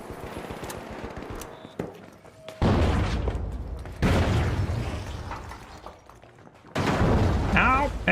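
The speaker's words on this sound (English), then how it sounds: "Everything's exploding." Heavy explosions and bursts of gunfire erupt in the video game The Finals, several loud booms in sequence with rattling shots between them and someone talking.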